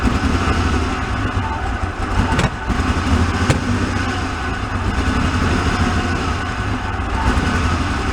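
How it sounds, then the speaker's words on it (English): The engine of a flood-damaged Porsche 911 runs up close, a steady, rough and loud mechanical drone with little change in pitch and two brief clicks partway through. "Rev it up a little, clear it out."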